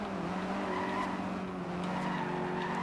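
In the racing game Forza Horizon 2, a car brakes hard and its tyres skid with a sustained squeal over steady engine drone, loud and continuous throughout with no talking.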